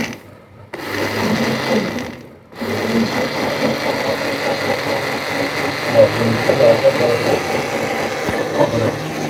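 A tractor engine runs to power a machine because the machine's own switch is broken. It gives a steady, close mechanical drone with a rhythmic whirring texture, and two brief dropouts near the start before it settles into continuous running.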